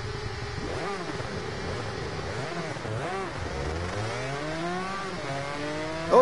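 Motorcycle engines whine in the racing video game Ride 2, several high revving notes climbing and falling as gears change, overlapping one another in a continuous buzzing pack.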